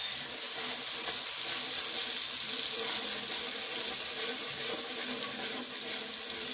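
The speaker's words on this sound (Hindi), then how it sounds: "अच्छी तरह इसको फ्राई करेंगे।" Egg masala with light-brown fried onions fries in a pan, a steady close hiss and sizzle throughout with no talk.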